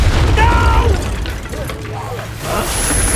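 The Incendio fire spell in the video game Hogwarts Legacy bursts with a loud whooshing boom and crackle, mixed with spoken voices and mechanical clatter in a duel.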